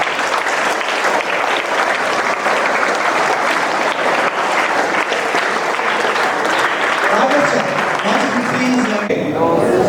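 Students and guests at a school diplomacy and collaboration event break into loud, steady applause that fills nearly ten seconds, with a voice emerging over the tail end.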